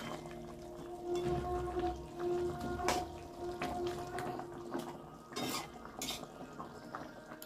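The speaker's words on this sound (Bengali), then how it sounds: "আমি এবার মাছগুলো দিয়ে দিলাম।" Pieces of fried fish going into a pot of poppy-seed fish curry with boiled potatoes, with clinks of a utensil against the pot, stirring and soft splashy sounds at close range, no talking.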